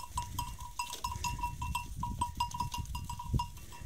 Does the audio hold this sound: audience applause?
no